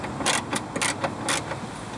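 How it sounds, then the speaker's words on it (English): Ratchet wrench loosening the bolts on a car's coolant reservoir during blower motor work, giving several short bursts of rapid clicking close by with brief pauses between strokes. "We will begin by removing the bolts to the reservoir."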